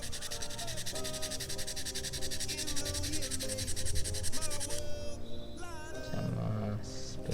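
Steady, close rubbing and sanding on a removed part of a Honda Brio engine, continuous and unbroken with shifting scraping tones throughout, no talk.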